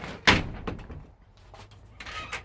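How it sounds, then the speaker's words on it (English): A door blown shut by the wind at a homestead, giving one sharp, loud slam near the start, followed by a quieter knock and faint rustling. "door blows shut on me."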